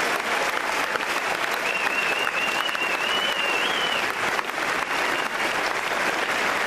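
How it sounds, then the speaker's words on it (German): Loud, sustained stadium crowd applause greeting the Eintracht Braunschweig and Aalborg BK football teams on the pitch at a friendly match, a dense unbroken roar of clapping with a faint whistle-like tone riding over it midway. "Kräftigen Applaus."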